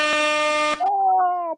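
A loud, blaring air horn holds a steady tone, then shifts to a lower, wavering honk that fades out.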